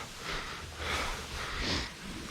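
A cow lets out three light, soft coughs or snorts at steady intervals in a barn at feeding time, each a short breathy burst at moderate distance with no talk over them.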